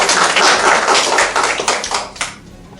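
An audience applauds to welcome the speaker at an oncology history talk, a dense burst of many hands clapping close and loud, then thinning out toward the end.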